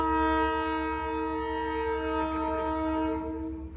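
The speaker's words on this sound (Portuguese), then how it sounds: "aqui o trem ele carrega de tudo um pouco" A freight train passes close by, sounding a long, loud, steady horn blast over a low rolling rumble of wagons; the horn cuts off and the sound fades near the end.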